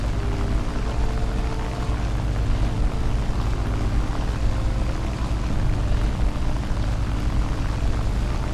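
Dense, continuous engine roar of an aircraft taking off in the War Thunder game, loud and steady throughout with a broad rumbling body and no pauses.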